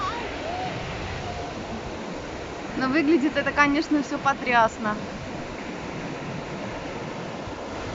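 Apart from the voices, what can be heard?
sea waves washing onto sandy beach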